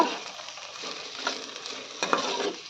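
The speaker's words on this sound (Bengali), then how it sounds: "টমেটো আর পেঁয়াজটা ভালোভাবে আমরা এখানে মিশিয়ে নেব" Chopped tomato and onion frying in a pan for soyabean keema, a soft, steady sizzle broken by a few spatula scrapes as the mixture is stirred.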